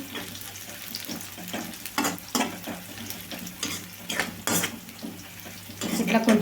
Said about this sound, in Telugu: పచ్చిమిరపకాయలు కూడా వేయించుకోవాలి